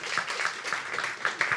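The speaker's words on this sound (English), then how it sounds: "How about a round of applause for them all?" An audience at a Webster University event gives a round of applause: steady, fairly soft clapping from many hands, with sharper individual claps standing out, and no one talking over it.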